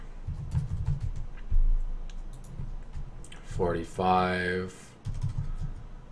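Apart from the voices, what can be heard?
typing numbers on a computer keyboard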